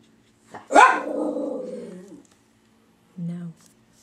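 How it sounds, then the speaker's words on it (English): Dogs indoors giving one drawn-out, whining bark-like howl, then a short low woof a moment later, close and loud in an otherwise quiet room. "I told you my dogs always like to make an appearance."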